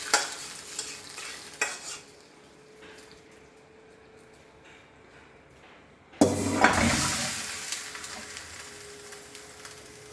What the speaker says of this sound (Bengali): এখন ফোড়ন দিয়ে দিব